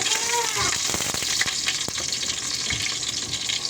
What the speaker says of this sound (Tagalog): Gigisahin po natin yung manok bago ilagay sa pressure cooker